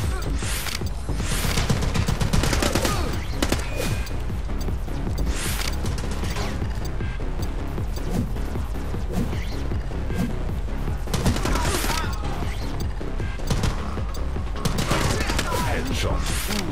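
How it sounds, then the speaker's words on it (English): Rapid bursts of automatic rifle fire in the shooter game The Club, loud and nearly continuous, with overlapping gunshots and mechanical clatter filling the whole stretch. "Switch to auto rifle."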